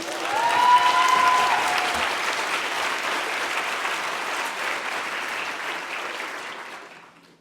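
Applause at a graduation ceremony in Paris, a full room clapping steadily with a faint cheer at the start, then gradually tapering off.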